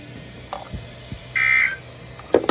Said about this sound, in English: This ends the test of the National Weather Service weather radio warning alarm.